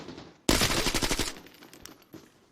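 Kalashnikov rifle gunfire in the video game Arena Breakout Infinite: a sudden, loud burst of rapid automatic shots lasting under a second, followed by fading echoes and one faint later shot.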